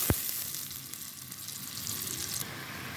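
Onions frying in a pan for a bottle gourd and hilsa curry, giving a steady, close hiss of sizzling oil with a brief sharp clink at the start and no talk.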